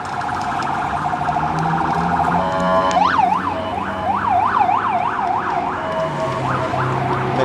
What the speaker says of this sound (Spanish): Me quedé callado porque viene una ambulancia o algo así.